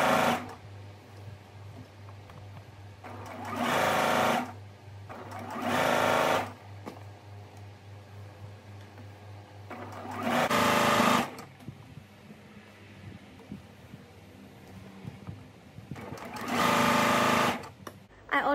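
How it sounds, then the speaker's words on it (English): A sewing machine quilting lines on a Liberty-fabric baby quilt, running in four loud, steady whirring bursts of a second or two each, with quieter pauses and faint room noise between them. "don't think there's anything more relaxing than sewing quilting lines"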